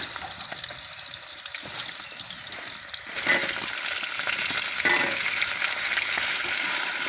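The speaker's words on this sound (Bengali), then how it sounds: "তেলের মধ্যে জিরে দেওয়া হয়ে গিয়েছে আলু দেওয়া হচ্ছে" Cumin sizzles softly in hot oil before potatoes are dropped in partway through; the frying then swells into a louder, fuller hiss that holds steady to the end.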